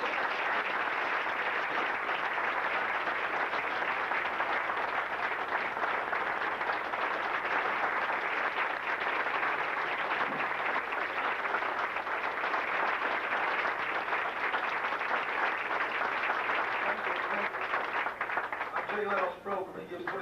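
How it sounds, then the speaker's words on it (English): An evening audience applauds a keynote speaker in a long, even, sustained round of clapping that holds steady for about twenty seconds before thinning at the end. "He gives 27 seconds for the applause"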